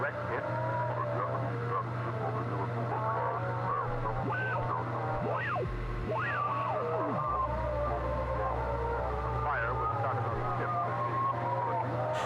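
Radio tuning static in the game Oxenfree, steady hiss and hum with warbling, sweeping tones and shifting stations, constant throughout without talk.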